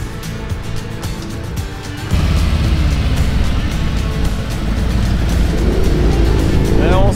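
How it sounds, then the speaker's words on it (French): A group of motorcycles pulls away together on a road in China. Their engines build into a loud, continuous rumble that swells and keeps growing as they ride off, with voices faintly in the background. "Et on se croirait presque aux States avec tous ces motards qui partent, c'est trop fort."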